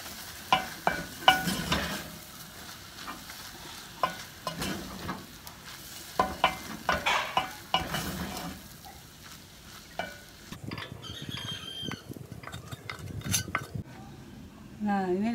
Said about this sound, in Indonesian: Matikan api, kita masukkan sayurnya.